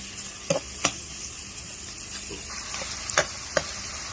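Tomatoes are stirred in a cooking pot over a soft continuous sizzle, with a few sharp spoon knocks against the pot; no voices.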